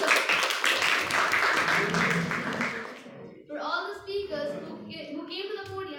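Audience clapping fills a meeting hall for the speakers of a youth leadership club session, a dense burst of applause that thins out and gives way to talking after a few seconds.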